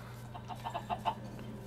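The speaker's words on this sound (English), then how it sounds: "Another chicken got out." Chicken in the Minecraft video game clucking in a short series of soft, spaced calls over a steady low background hum, with no one talking.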